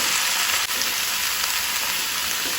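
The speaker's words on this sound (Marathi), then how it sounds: "आता हांव तातून घालता पपाय भाजी शिनून दवरल्या ती घालता" Chopped raw papaya for a Goan-style bhaji is added to hot oil in a pan, producing a steady broadband sizzle with a brief dip as the pieces go in.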